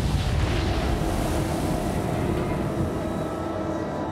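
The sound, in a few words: nuclear bomb explosion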